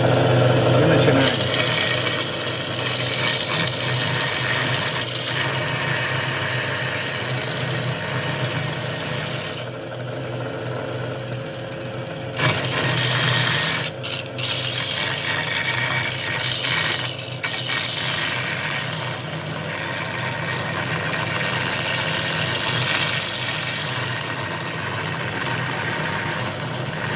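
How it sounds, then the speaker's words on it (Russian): A homemade belt grinder's motor runs continuously with a loud, steady whine and rumble, briefly dipping a few times, while someone talks over it. "Запускаем наш двигатель."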